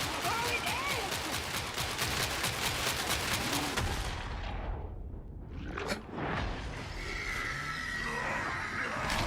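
Video game gunfire comes as a rapid string of loud shots through the first half, then a short lull and a single boom, with other game sounds continuing after.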